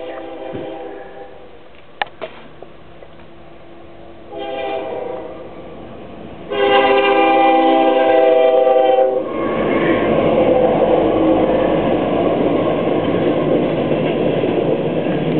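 A long freight train hauled by many engines rumbles past at close range, its horn blaring with harmonic tones before the steady roar of cars rolling by swells and continues.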